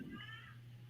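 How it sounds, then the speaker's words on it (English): A single short meow, close and fairly faint, with a low steady hum underneath. "That's the cat. Oh, it's the cat."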